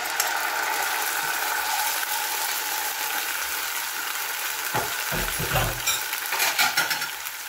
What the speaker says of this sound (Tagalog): Nagtatalsikan po kaya atin siyang cover.